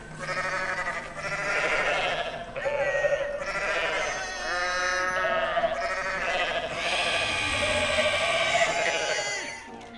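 A chorus of goats bleats continuously up close, one harmonic cry after another overlapping in loud, wavering calls that barely pause, with little else beneath them.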